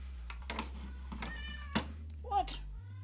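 A pet cat named Tiki meows a couple of times close by, short and clear over a low steady hum, with a person speaking briefly around the calls.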